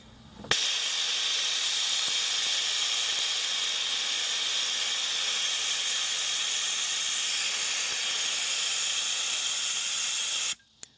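A sandblaster sprays sand to etch glass, giving a loud, steady, continuous hiss that starts abruptly and runs unbroken for about ten seconds before cutting off.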